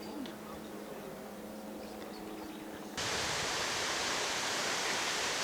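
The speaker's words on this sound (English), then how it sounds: "There's a waterfall not that far from the hotel we were staying at." Steady broadband rushing of falling water, at first softer with faint murmurs, then abruptly louder and fuller, a constant roaring hiss that continues without pause.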